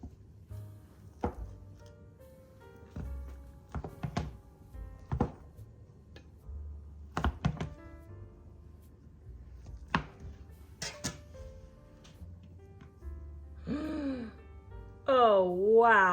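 A knife cuts through a pan of homemade Christmas fudge, producing several soft, close thunks and scrapes spread across the stretch while someone talks and reacts between the cuts.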